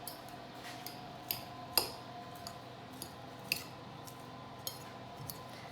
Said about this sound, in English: And then with the fork, just mix it all in together